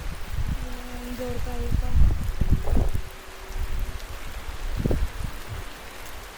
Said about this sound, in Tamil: மழை வேற நல்லா வருது சீக்கிரம் அடியா